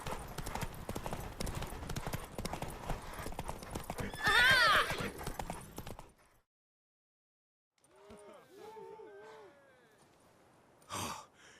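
A horse in The Witcher 3 gallops hard with rapid hoofbeats for about six seconds, then after a silent gap a mare whinnies and neighs loudly, followed by a short breathy snort near the end.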